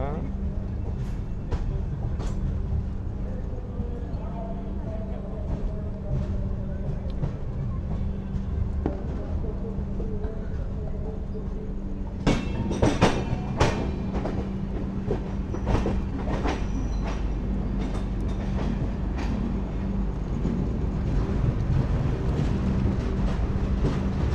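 Mandovi Express running near Panvel on its journey from Madgaon to Mumbai, a steady loud rumble of the moving train with rhythmic wheel clatter and sharper clicks growing busier in the second half, while people talk faintly.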